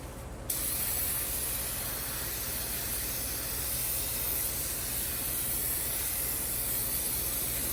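A steady, loud spray of cleaner onto a brake rotor hisses continuously for several seconds after a short quieter start, close by and with no voices.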